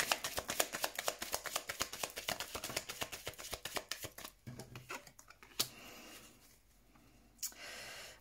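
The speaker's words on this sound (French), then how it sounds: "on va mettre une dernière carte et ensuite on va faire le tirage" Tarot cards shuffled in a fast, rhythmic riffle of close papery flicks, then a few softer taps and slides as cards are laid out.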